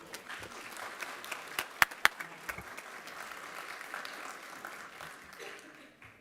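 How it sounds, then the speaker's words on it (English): Applause from the audience at a county Board of Commissioners meeting, a moderate, steady patter of many hands held for several seconds with a few sharper individual claps near the start. "So I think that deserves a round of applause."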